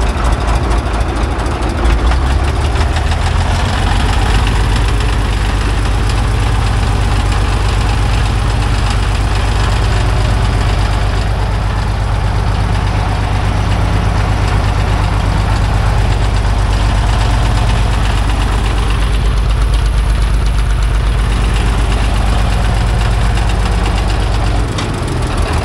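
A TD15 dozer's heavy diesel engine idles steadily with a deep, continuous rumble and knocking throb, loud and close throughout.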